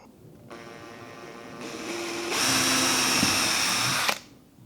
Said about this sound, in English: Now we can drill a hole straight through there.